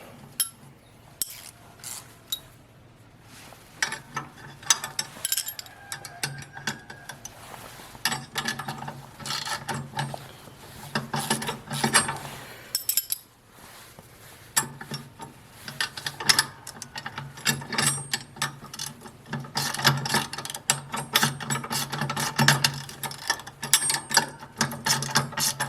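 Repeated ratchet clicks tighten a bolt on a trailer hitch being fitted to a riding lawn mower, a steady close-up run of quick pawl clicking in bursts with short pauses, no talk.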